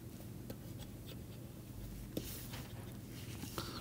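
Writing a theorem on a board during a mathematics lecture, soft scratchy strokes and taps close by over a low room hum, with no speech.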